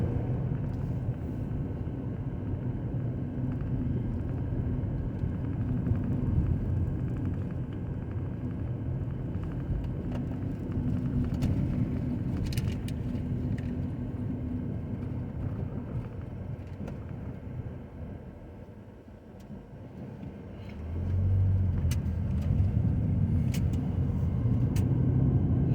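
A car drives through the city of Wetumpka, Alabama, a continuous low road rumble with some wind noise, swelling louder near the end, no talking.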